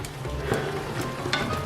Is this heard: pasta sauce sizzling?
yes